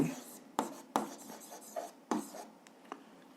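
A pen writes on paper while working a 7th-grade algebra exercise, giving soft scratchy strokes with several sharper taps at close range in a quiet room.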